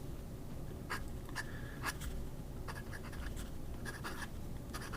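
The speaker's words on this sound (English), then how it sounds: "I can tell that this nib is a little more scratchy." A fountain pen with a scratchy nib and Kaweco Paradise Blue ink writes on paper, a series of short, close, crisp scratching strokes in irregular bursts, faint and alone with no talk.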